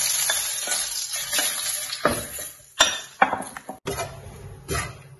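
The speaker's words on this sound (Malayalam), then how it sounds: "ഇതിലേക്ക് ഇനി ഈ കോക്കനട്ട് ഒഴിച്ചിട്ട് നമുക്ക് വരട്ടിയെടുക്കാം." Grated coconut sizzles steadily in hot oil in a pan for kappa biriyani, while a spoon scrapes and clinks against the pan in uneven stirring strokes close by.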